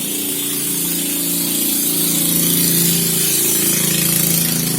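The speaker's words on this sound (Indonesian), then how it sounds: "suara motor sangat berisik sekali nih" A loud, steady motorcycle engine drone with a low rumble, running close by and continuing throughout without any talking.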